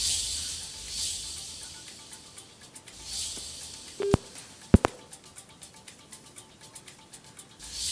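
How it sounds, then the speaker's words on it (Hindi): A telephone line cut off mid-call gives a series of brief busy-tone beeps, with a few sharper tone bursts near the middle, under faint background hiss. "संपर्क कट चुका है, दोबारा बात करने की कोशिश करेंगे"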